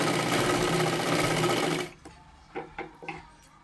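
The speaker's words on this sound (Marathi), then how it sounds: "पुन्हा एकदा त्याच्यावरती डबल शिलाई मारून घ्यायची आहे." Domestic sewing machine running a double line of stitching along a shoulder seam of a size-36 katori blouse, a dense steady whir for about two seconds, then stopping, followed by a few short clicks and taps.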